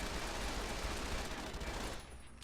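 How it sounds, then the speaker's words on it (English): Assault rifle in Fallout: New Vegas firing in a rapid, unbroken stream of shots, loud and dense, cutting off abruptly near the end with no talk over it. "How fast does the assault rifle shoot now?"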